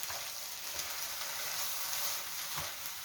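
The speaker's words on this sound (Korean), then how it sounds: "요렇게 해서 계란을 다 익혀주시고, 스크램블 하셔서" Eggs scramble in a pan for shrimp fried rice, a quiet steady sizzle with a few light stirring scrapes and no voices.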